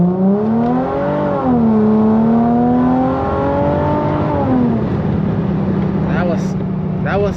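A Chrysler Crossfire SRT-6 accelerating at part throttle, its engine note rising in a loud, close drone through several gear changes before settling into a steady cruise, with faint clicks near the end.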